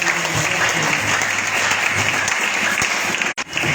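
A church congregation in Brazzaville applauds in praise of the Lord, producing a sustained, dense round of clapping from many hands that briefly drops out near the end.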